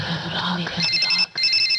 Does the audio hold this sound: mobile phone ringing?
yes